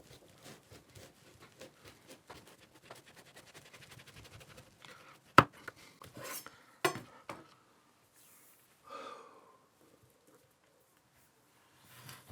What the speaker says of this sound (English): might just stand it up and cut it actually.